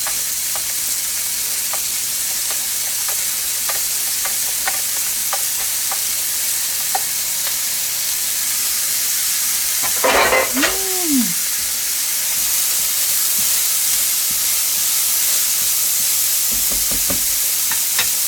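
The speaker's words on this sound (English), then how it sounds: "1 cup of chopped celery and 1 cup of chopped onion. And I'm going to saute these." Chopped celery and onion sautéing in olive oil in a pan, a steady close sizzle running throughout, with a brief clatter of stirring and a short squeak midway.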